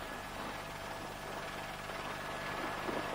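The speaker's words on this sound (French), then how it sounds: "Je suis dans l'hélicoptère" Inside a helicopter flying over a gulf, a dense, steady rotor and engine drone fills the cabin at constant loudness with no voices.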